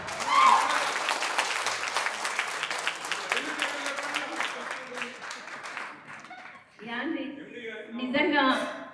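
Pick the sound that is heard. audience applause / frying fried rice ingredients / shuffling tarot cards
audience applause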